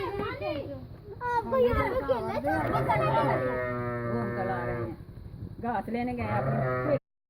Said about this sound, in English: you hear Mama Sheep screaming